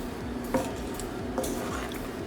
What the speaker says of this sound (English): Continuing to stir every 30 seconds or so